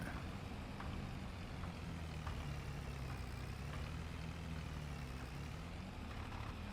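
Tractor engine in Farming Simulator 22, a faint, steady low rumble labouring under load, continuous and unbroken with no talk over it.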